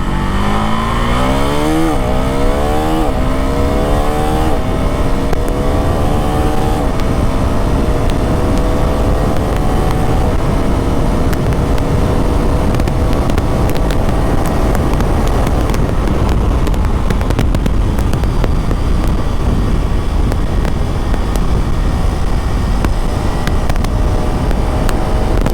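A 2025 KTM Duke 390 motorcycle in track mode roars close up, its engine climbing through repeated rising revs and gear changes, then holding a steady, loud drone at speed.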